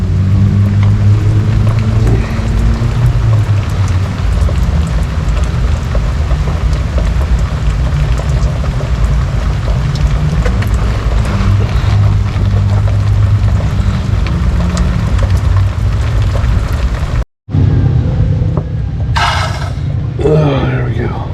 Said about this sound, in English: It's pouring rain while I'm under the car trying to put in this fluid.